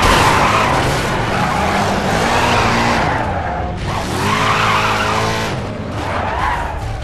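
A car in the GRID video game destruction derby skids and spins, a loud, continuous tire squeal rising and falling over engine roar with no talk.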